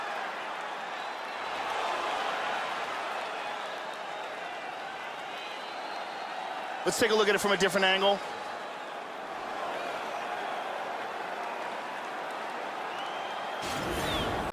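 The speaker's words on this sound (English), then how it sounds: "Crowd is absolutely loving it." A crowd roars steadily at a UFC fight in EA Sports UFC 3, a broad cheering wash under a commentator's voice, with a brief burst of sharper noise midway.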